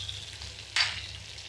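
Pieces of arbi (taro root) sizzle softly in a frying pan, with one sharp burst of hiss or a stir partway through; close, alone, no talk.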